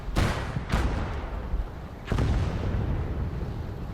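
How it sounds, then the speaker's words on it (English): Tank ammunition cooking off in a WWII game battle at Villers-Bocage, a German Panzer blowing up: a loud boom near the start, a second blast just after, and a third heavy explosion about two seconds later over a continuous rumbling roar. "that was the Panzer that cooked off"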